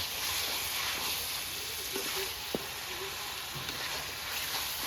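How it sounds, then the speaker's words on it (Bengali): Chicken and potatoes sauté in a pan, giving a quiet, continuous sizzle with a faint tap or scrape of stirring near the middle, and no voices. "আলুটাও আমি সঙ্গে দিয়ে দিলাম এবং ভালো করে একটু কষিয়ে নেব"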